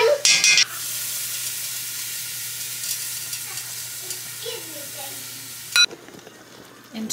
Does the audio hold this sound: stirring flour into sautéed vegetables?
yes